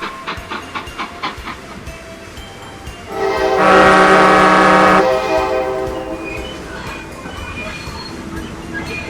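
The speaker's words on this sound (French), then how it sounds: "Les trains se succèdent dans un rythme effréné." A radio sound effect of trains departing: wagons clatter over rail joints in a rhythmic beat, then a loud sustained train horn blasts for a couple of seconds before rolling carriage noise resumes.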